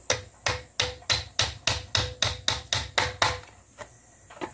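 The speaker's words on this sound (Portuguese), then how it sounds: "Vamos indo, vamos pregando por aqui até fechar lá o ciclo." A hammer drives nails into the wooden frame of a handmade grater, with about a dozen sharp, evenly paced blows close by, followed by a pause and two lighter taps, no voices.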